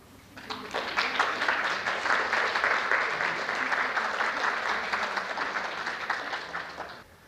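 Sustained audience applause fills a lecture hall, dense even clapping that starts abruptly, holds at a steady level for about six seconds, then stops cleanly.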